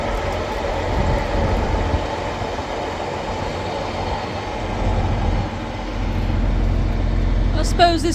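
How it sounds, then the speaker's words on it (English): Steady low rumble of a steam train passing on farmland near a hay paddock, a continuous rolling drone throughout with a brief rise near the end. "Steam train."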